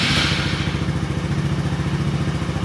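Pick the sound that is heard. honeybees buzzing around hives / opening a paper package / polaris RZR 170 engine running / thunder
polaris RZR 170 engine running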